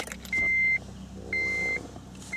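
Car ignition switched on during a fuel pump test, giving three short steady electronic chimes in a regular rhythm over quiet background rumble.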